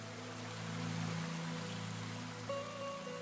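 Steady broadband rushing of running water in a stream through a narrow, rocky gorge, continuous and moderately loud, with a faint tonal hum underneath.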